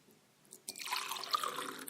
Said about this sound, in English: as I pour myself a little bit of wine here